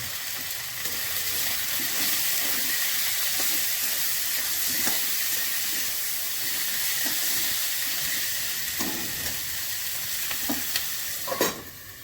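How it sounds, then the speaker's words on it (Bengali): Potatoes and onions fry in a pan with a continuous close sizzle, broken by occasional scraping and clinking stirs, and no voices. "আলু পেঁয়াজ ভাজা হয়ে গেছে"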